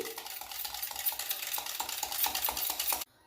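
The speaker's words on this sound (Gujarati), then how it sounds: "હવે આપણે એકવાર આ રીતના મિક્સ કરી લઈશું" A spoon stirs yogurt for lassi briskly in a vessel, making rhythmic scraping and light clinking strokes at close range, with no voices, then stops abruptly.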